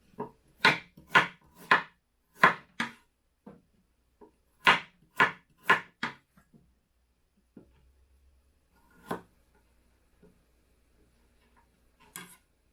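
Thin, even slices of ginger cut by knife on a wooden board, about eleven sharp, close chopping knocks in two quick bursts within the first six seconds, followed by a few sparse, fainter taps and quiet handling.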